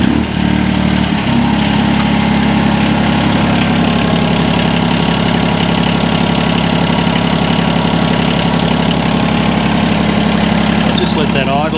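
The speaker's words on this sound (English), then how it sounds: "just going to start the machine up and run it just to make sure the oil's nice and warm" The diesel engine of a UHI UME12 mini excavator cranks over after a glow-plug warm-up, catches within a second and settles into a steady, loud, chugging idle.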